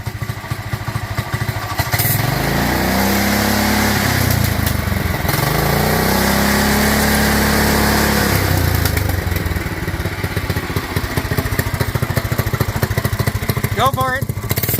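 A John Deere 110 lawn tractor fitted with a Predator 212 engine runs throughout, a loud, steady mechanical chug with swells in pitch around the middle, while people talk now and then.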